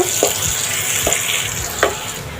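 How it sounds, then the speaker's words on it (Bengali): About a cup of chopped onion fries in a little oil with bay leaves and spices, a steady close sizzle broken by three or four scraping strokes of a stirring spoon. "এখন দিয়ে দেবো এক কাপের মতো পেঁয়াজ কুচি পেঁয়াজটাকে ভালো করে ভেজে নেব"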